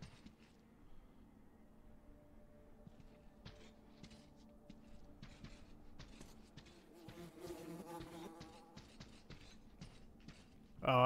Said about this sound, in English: They got the flies buzzing.